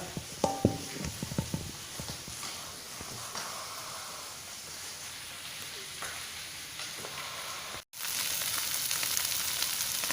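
Pork stuffing mixed with peppers and mushrooms fries in a pan, giving a steady broadband sizzle with a few sharp spatula knocks early on and a brief dropout near the end before the hiss resumes.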